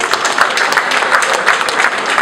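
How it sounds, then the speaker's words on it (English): A crowd at the NetOne One Money product launch breaks into loud, close applause, dense rapid clapping from many hands holding steady throughout. "that deserves another round of applause, ladies and gentlemen"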